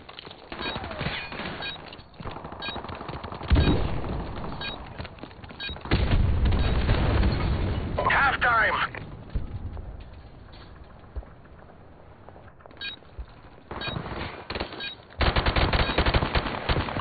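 Rapid automatic gunfire from a video game shooter, with dense bursts of shots and fusillades coming loud and close, broken by brief quieter gaps.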